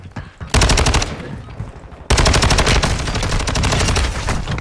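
Automatic gunfire rattles out in the shooter game Warzone, loud and close: a short burst, a brief pause, then a long sustained stream of rapid shots.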